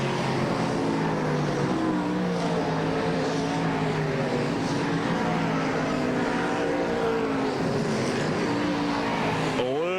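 Big block modified race cars roar around a dirt oval at the Sharon Nationals, a continuous layered engine drone with cars passing, heard at a distance under crowd and track ambience.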